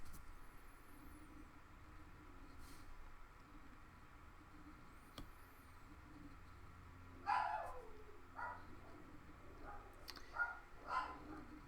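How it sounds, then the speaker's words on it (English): Pet dogs bark at a distance in a quiet indoor room during an art session, a few short yaps clustered near the end over steady low background hum. "No idea what my dogs are barking about."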